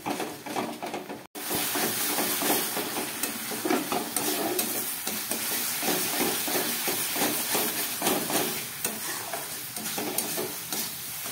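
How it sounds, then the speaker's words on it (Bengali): Spice paste frying in a pan after a splash of spice water, a loud continuous sizzle and hiss with stirring scrapes, steady throughout. "মশলাটা ভালো করে কষাবার জন্য আমি একটু মশলার জল দিয়ে দিলাম"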